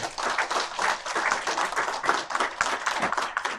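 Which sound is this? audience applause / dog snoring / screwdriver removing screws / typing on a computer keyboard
audience applause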